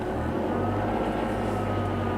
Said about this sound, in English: See, the engine sounds really weird too.